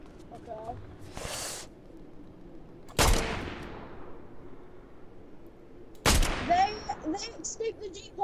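Grey shotgun blasts in a video game boom out three times, several seconds apart, each a sharp loud crack trailing into a decaying echo, with faint game noise and tonal effects in between.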